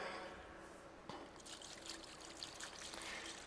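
Water poured into a Moringa filter tank, a steady trickling, splashing pour that runs unbroken for a few seconds at moderate distance, with no voices over it.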